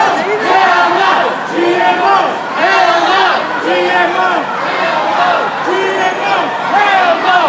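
Protest marchers at the March Against Monsanto in Chicago shout a rhythmic chant in unison, loud and close. The repeated calls rise and fall every second or so over the continuous noise of the crowd.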